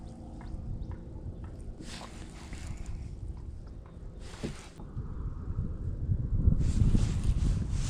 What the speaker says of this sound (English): There's a bit of wind, but it's not bad.